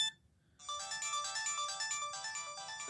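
Ringtone from a Samsung SGH-T105G TracFone handset: after a brief pause, a dense, bright electronic melody starts and repeats in a steady pulsing rhythm, loud and alone.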